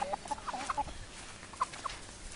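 Farm chickens cluck in short, scattered bursts, close and moderately loud, over a low ambient background with no speech.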